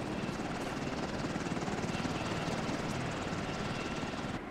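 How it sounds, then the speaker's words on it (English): A helicopter arrives in the Ghost Recon video game with a steady, even rotor thrum. It holds at a constant moderate loudness throughout, with no one talking. "here's the helicopter"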